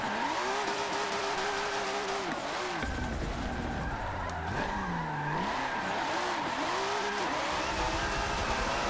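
Car drifting in Forza Motorsport 7 on the Suzuka track, engine revving and falling continuously, with long tire squeals as it slides through corners, loud and close, with no talk.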